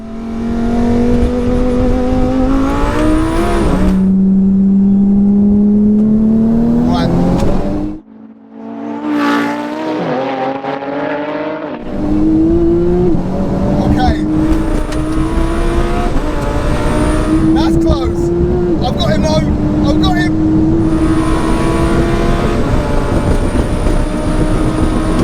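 A 1200 hp Porsche 911 Turbo S and a 1000 hp twin turbo Lamborghini Huracan drag race, their engines roaring loud and near as they climb through the gears with rising pitch, a brief lull at a shift, then sustained acceleration.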